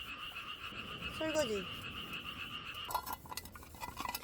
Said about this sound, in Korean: 비 와서 개구리가 우는 거구나.